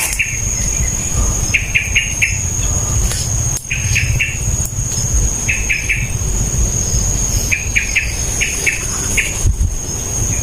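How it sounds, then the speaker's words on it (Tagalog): Several kinds of birds calling outdoors, with repeated short bursts of bright chirps over a constant high insect drone and low background rumble, steady throughout with no talking. "iba't ibang klase ng ibon po dito"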